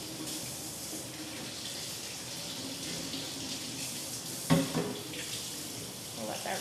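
A kitchen tap runs a steady stream of cold water over blanched vegetable tips, a continuous hiss and splash at moderate level, with one brief clunk of handling partway through.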